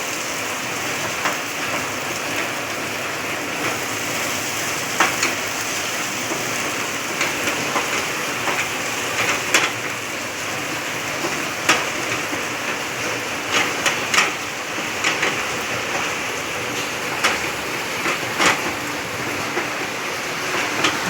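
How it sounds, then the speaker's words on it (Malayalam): Heavy rain pours steadily, with scattered louder drips and patters standing out over the constant roar. "മഴ തകർത്ത് പെയ്യുമോ കേട്ടോ"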